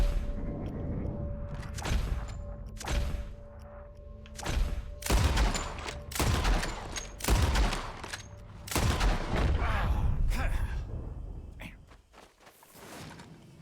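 Gunfire in Red Dead Redemption 2 story mode, a series of loud, sharp shots in irregular bursts with short gaps, some rapid pairs, mixed with in-game voices.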